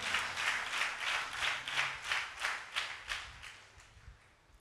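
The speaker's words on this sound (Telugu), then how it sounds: "వారు చప్పట్లు కొట్టి దేవుణ్ణి స్తుతిద్దామా?" A congregation claps hands in praise, a steady rhythmic beat of many hands roughly twice a second, fading toward the end with no voices over it.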